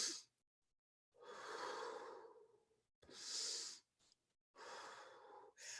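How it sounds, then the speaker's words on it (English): Slow, deliberate breaths during a meditation, drawn in through the nose and let out through the mouth, close and soft, in several long separate breaths with silent pauses between them and no speech. "as I inhale through my nose and I exhale through my mouth"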